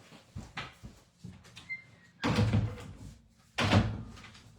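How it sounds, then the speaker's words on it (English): A room door at home swings shut, giving a soft thump followed by a second, louder closing thud about a second later. Both sounds are close and indoors, with quiet rustling between them. "Just closing my door on my room"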